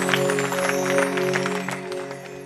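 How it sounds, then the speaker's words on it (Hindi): Audience clapping at a Bhagavat Katha devotional gathering, a burst of many hands that rises and then fades over a sustained drone of harmonium-like accompaniment. "वाह वाह, तालियां होनी चाहिए एक बार।"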